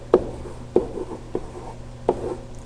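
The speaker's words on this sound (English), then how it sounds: "if I write down my givens" Pen or pencil writing down physics givens by hand during an acceleration lesson, with a handful of short scratchy strokes and taps at an irregular pace, close and fairly quiet.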